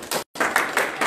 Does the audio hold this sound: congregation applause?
yes